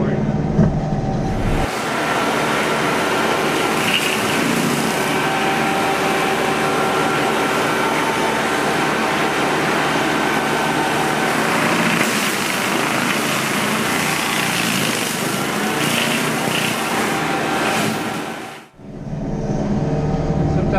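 A Quick Attach brush thrasher mulcher runs steadily at close range, a loud continuous mechanical drone chewing through brush for nearly twenty seconds, then cutting off abruptly near the end.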